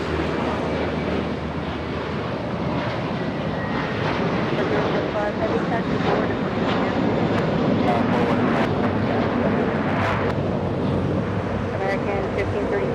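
An American Airlines jet takes off at a busy airport, its engine roar a broad, sustained rumble close by, with wind buffeting the microphone and a radio voice talking over it.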